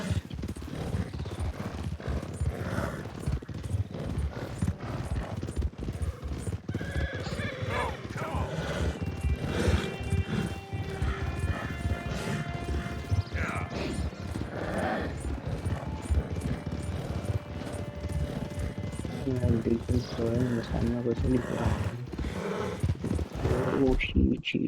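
A tiring horse gallops steadily in the Western game Red Dead Redemption 2, its hooves drumming in a fast continuous rhythm, close and prominent, with faint distant gunfire in the background.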